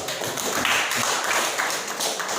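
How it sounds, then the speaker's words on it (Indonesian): Scattered clapping from a group of students in a classroom, steady light applause lasting a couple of seconds at moderate volume with no talk over it. "Kita kasih aplaus"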